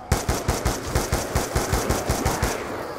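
An SMR rifle fires in Black Ops 2 Zombies, a rapid series of about a dozen loud, close single shots in a regular rhythm, with no voices over it.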